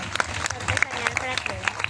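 Crowd clapping at an outdoor gospel meeting in rural Telangana, a short burst of scattered applause from many hands, fairly close, with voices mixed in underneath.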